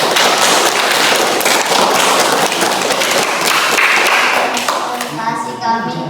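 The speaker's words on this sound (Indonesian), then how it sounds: "Beri aplaus kepada kelompok." Dense classroom applause for a presenting group: many hands clap loudly together in a crowd-like wash that tapers off near the end, with voices mixed in.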